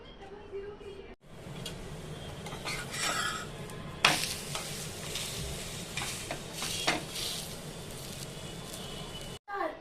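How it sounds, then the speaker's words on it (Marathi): A prawn paratha sizzles and fries on a hot pan, with steady crackling broken by louder bursts of spitting oil and occasional stirring or pressing sounds; brief silent gaps near the start and end. "आता आपण हिला भाजायला टाकूया."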